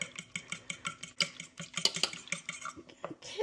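Eggs whisked in a bowl for meatball mix, a steady run of quick rhythmic clinks and taps from the whisk against the bowl, close and moderately loud with no talking.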